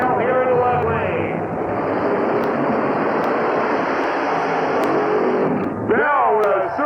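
Drag racing cars roar down the strip in a loud, sustained engine blast lasting several seconds, with rising whine at the start and end, under an announcer's voice heard at the edges.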